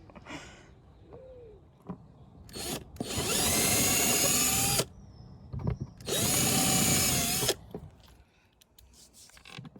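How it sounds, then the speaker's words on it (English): A power drill whirs in two loud, sustained bursts of about two seconds each, close up, with short quieter taps and handling noises between them aboard a narrowboat. "drill required."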